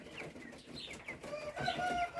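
Faint, high chirps and peeps from a newly hatched chick among soft clucking poultry and turkey poults, short scattered calls over a quiet room background.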